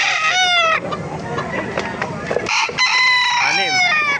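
Nearby rooster crowing loudly at a chicken market in Baliuag, with clucking chickens and some indistinct voices mixed in.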